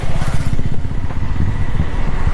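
Engine noise from motor traffic on a village road, a motorcycle-like buzz pulsing close by and steady through the short stretch with no voices over it.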